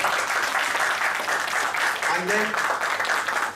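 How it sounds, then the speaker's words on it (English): Audience applause at a meeting as a new president is installed, steady dense clapping throughout, with a voice briefly speaking over it. "Don't you want to give him an applause?"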